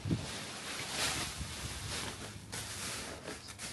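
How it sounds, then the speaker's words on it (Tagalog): Wind buffeting a DJI Osmo Pocket 3's internal microphone outdoors, a loud, uneven rumble and rush that swells and eases throughout, with no other clear sound. "medyo mahangin na, mahangin siya ngayon"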